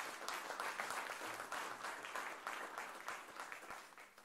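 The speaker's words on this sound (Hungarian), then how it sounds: "Tapsoljuk meg még egyszer Agócs Erikát!" An outdoor audience applauds an award recipient at an education award ceremony in a museum garden, with steady clapping from many hands at a moderate distance.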